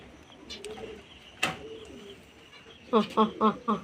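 Pigeons in a home loft give a few soft coos and chirps early on, then a run of four louder, evenly spaced coos close by, with a person's voice faintly in the background.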